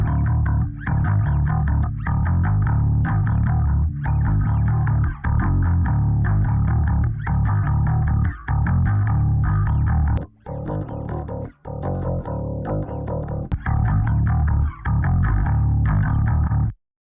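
A heavy, distorted bass guitar tone layered with a clean bass track plays loud and continuous, with short gaps between phrases of sustained low notes.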